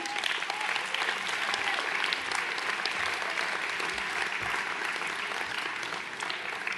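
Audience in a hall at a town's New Year greetings ceremony applauding, a sustained, even patter of many hands clapping at a moderate distance, with no break.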